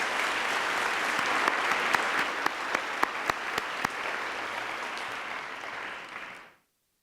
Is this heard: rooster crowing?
no